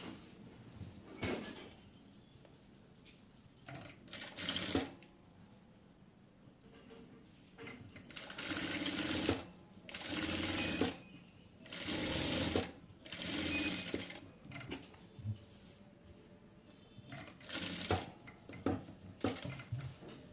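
A domestic sewing machine stitches a front neck design on a kameez, running in several short bursts of rapid mechanical whirring separated by quiet pauses, close and moderately loud, with no talking.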